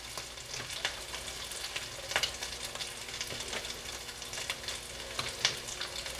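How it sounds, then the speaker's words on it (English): Flour being stirred into a simmering beef and Guinness stew in a pot: a steady crackling sizzle with scattered soft scrapes and clicks of the spoon, fairly quiet and continuous, with no talking. "And then we're going to want to go ahead and mix that in."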